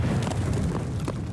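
A grenade detonates in the video game Escape From Tarkov, heard as a dull, rumbling boom that rolls on steadily through the moment without a sharp crack.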